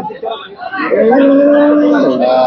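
A dairy cow at a cattle market lets out a long, loud, drawn-out moo nearby, preceded by some faint background noise.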